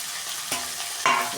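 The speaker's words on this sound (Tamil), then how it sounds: "இப்போ நம்ம வெண்டைக்காவை கொட்ட போகிறோம்." Chopped okra drops into hot oil in two quick bursts, each setting off a sharp crackling sizzle that settles into a steady fry, heard close with no talking.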